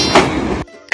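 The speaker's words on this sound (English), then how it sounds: "train," A toy-style train sound effect from a set of vehicle sounds for toddlers: a loud, brief burst of rail noise lasting over half a second, a short pause, then another loud burst starting.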